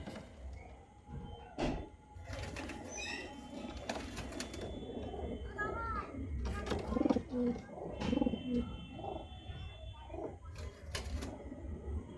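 Madrasi pigeons coo inside a loft, soft throaty calls repeating at intervals, mixed with wing flutters and scraping or clattering from cages and doors in a quiet room.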